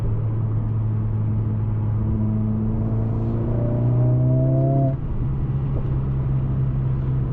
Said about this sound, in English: Also, we have some exhaust pops.